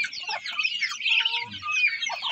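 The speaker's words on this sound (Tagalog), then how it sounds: "Ayan, ito yung mga itik natin guys." A flock of about twenty-two backyard farm ducks (itik), some pure white, calling up close in a busy, overlapping burst of nasal chattering quacks with no voices.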